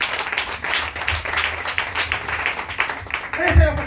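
Congregation applauding during a French-language church service, a steady dense wash of clapping that carries on throughout, with a preacher's voice talking over it.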